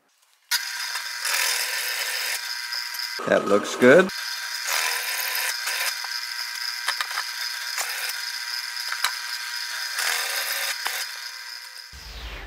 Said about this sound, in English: I'll countersink it deep enough so the head of the screw becomes flush